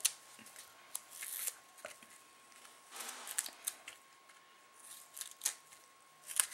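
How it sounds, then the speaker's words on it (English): Several quick, crisp scissor snips cutting an adhesive strip at close range, spaced irregularly with short pauses, with faint rustling in between. "I'm just going to take my scissors, cut a little strip"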